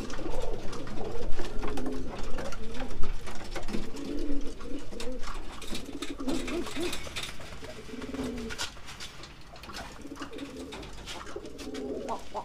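Racing pigeon cooing repeatedly as it drives its mate hard, a rhythmic series of throaty coos close by over a steady background hum.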